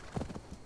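Horse hooves clip-clop in the video game Assassin's Creed Valhalla, a few quick, soft hoof strikes heard faintly and briefly.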